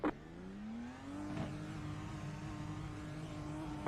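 IndyCar race car in the iRacing video game at Barber, a whining engine tone that rises as it accelerates and then holds steady, with a brief whoosh as a car passes, no talking.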